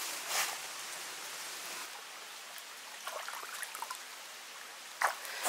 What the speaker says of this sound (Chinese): 我来把这个观音土用水洗一下